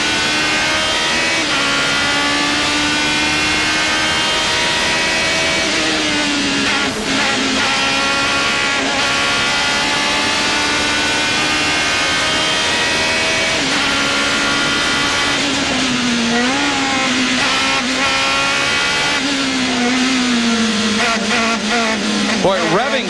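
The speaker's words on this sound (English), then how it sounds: "Now listen to this engine whine." A Formula Atlantic race car's engine screams at very high revs during a Runoffs race, a loud, sustained whine rising and dipping through gear changes, heard from onboard with engine buzz throughout.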